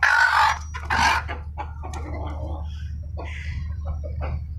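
Hen clucking close by in a backyard poultry setup, with a couple of loud clucks at the start followed by softer, scattered calls over a steady low hum of wind or background noise.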